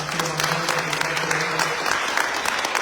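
A press-conference audience applauds the organizers, with a steady round of many hands clapping close and loud for about three seconds, a faint voice murmuring beneath.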